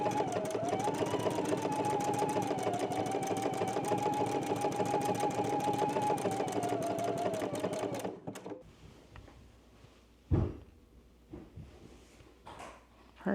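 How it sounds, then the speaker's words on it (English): A sewing machine stitches buttonholes on a shirt, a fast, steady mechanical chatter for about eight seconds that then stops abruptly, leaving a quiet room with a few faint knocks. "when I'm doing buttonholes, I always like to start at the bottom"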